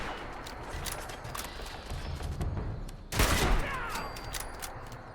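Rapid gunfire in the game Fallout 76 rattles over a busy, noisy in-game backdrop, with a louder, denser burst of shots about midway through.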